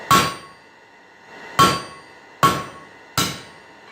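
A metal leaf is hammered on an anvil by a blacksmith: four sharp ringing clangs, the first alone and the next three coming faster, each ringing briefly, close and clear with no talk.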